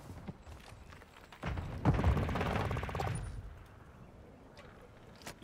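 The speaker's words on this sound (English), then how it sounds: "We have an ammo box here. Grenade out!" A grenade explosion and gunfire in a Call of Duty video game, with a dense burst of rapid shots and a blast in the middle, followed by scattered clicks, and no talk.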